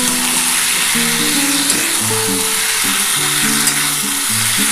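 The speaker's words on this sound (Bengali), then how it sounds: "এবার আমি কিন্তু সোয়াবিনটা দিয়ে দিলাম।" Soybean chunks hitting hot frying spice masala in a pan, a loud dense continuous sizzle with faint tonal background music beneath, no voices.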